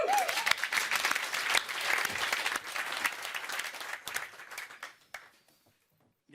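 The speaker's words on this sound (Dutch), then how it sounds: "Dames en heren, applaus en aandacht voor Eeltje Hellinga." An audience at a live cultural event in Leeuwarden claps steadily and fairly loudly for about four seconds, then the clapping thins into scattered claps and dies away into near silence.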